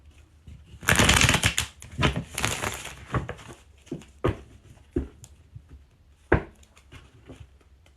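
A deck of playing cards is shuffled at close range, giving a burst of dense riffling followed by several sharp slaps and taps as the cards are squared up. There is no talking.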